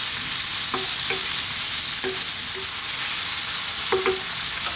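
Chicken franks with onions and garlic fry in a pan with a loud, steady sizzle, broken by occasional sharp clinks and scrapes of a utensil stirring the contents.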